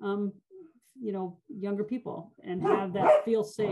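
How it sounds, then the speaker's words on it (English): A pet dog barks and yips a few times in the background, close but partly buried under a person speaking steadily. "sorry, that's my dog"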